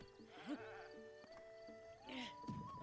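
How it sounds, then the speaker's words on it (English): Goats bleating in Zelda: Breath of the Wild, two separate wavering bleats about two seconds apart, fairly quiet over a soft in-game music drone with sustained tones. "Look, goats."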